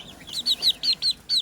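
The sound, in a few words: young Pekin bantam rooster and chicks clucking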